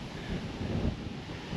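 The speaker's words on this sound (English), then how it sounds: "this wind is gonna mess this camera up" Wind gusting outdoors among bur oak trees, a steady low rumbling roar buffeting the microphone, swelling slightly in gusts with no one talking.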